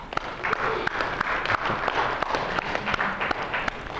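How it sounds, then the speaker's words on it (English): Lecture-hall audience applauding the teaching assistants in a university class on memory management, a steady wash of clapping across the room with a few sharper nearby claps. "let's give the TAs a hand"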